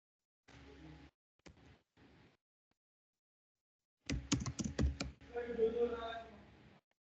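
Keys click on a computer keyboard as a name is typed, in short, quick bursts of taps separated by pauses, with a voice speaking between and over them.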